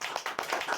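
A group claps briefly during a Korean variety-style academy game, a short burst of several quick, close claps lasting under a second.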